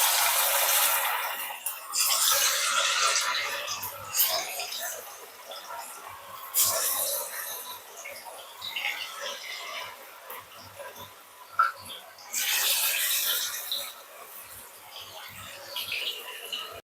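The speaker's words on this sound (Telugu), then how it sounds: "ఇప్పుడు మనం మ్యారినేట్ చేసుకున్న చికెన్ని ఇందులోకి వేసేసుకుందాం." Marinated chicken kebab pieces sizzle and crackle as they deep fry in hot oil. A steady frying hiss swells in several loud surges, with speech-like sounds in the background.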